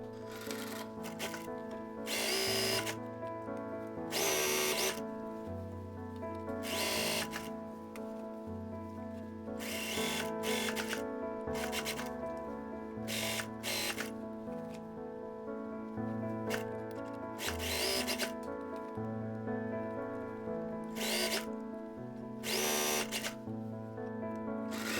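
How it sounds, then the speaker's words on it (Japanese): Sewing machine stitching twice along the crotch seam of a scalloped-lace skirt-culotte, running in repeated bursts of rapid mechanical whirring separated by short pauses, close and clear with no talking. "尻ぐりを縫います。"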